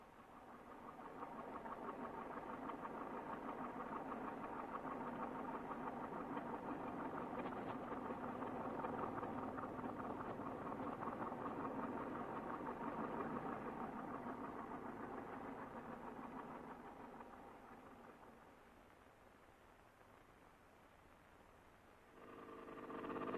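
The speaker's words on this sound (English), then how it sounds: "A tractor is driven down the shaft to provide power for pumping water" A tractor engine driven down a slanting shaft in Huixian County's Gaozhuang Commune powers a water pump from underground springs. It gives a faint, steady mechanical drone for about eighteen seconds, then drops lower before a brief rise at the end.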